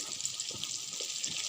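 Onions frying slowly in oil until lightly browned, a close, even sizzle with faint crackles throughout and no talking.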